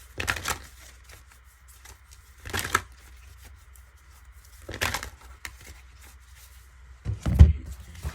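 A deck of cards is shuffled in a few separate bursts spread several seconds apart, soft riffling rustles in a quiet room with no speech.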